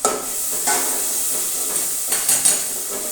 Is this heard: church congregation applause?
no